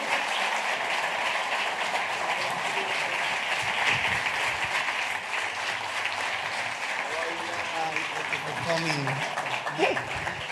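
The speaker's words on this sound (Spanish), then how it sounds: "Vamos, denle un fuerte aplauso ahí en el día de hoy." An audience gives steady, enthusiastic applause to welcome a rabbi to the stage at an evening talk, with a presenter speaking over the clapping toward the end.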